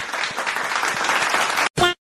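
An audience claps for about 1.7 seconds in a steady patter of applause. It cuts off abruptly and is followed by a short, separate burst of sound.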